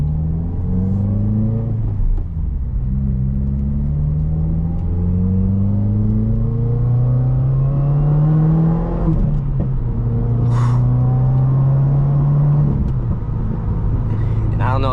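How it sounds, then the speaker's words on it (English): A 2021 Subaru WRX with a muffler delete drones loudly from inside the car as revs climb and fall through the gears, with a few sharp exhaust pops along the way. "Just running the muffler deletes, I think it's amazing that the car pops and crackles."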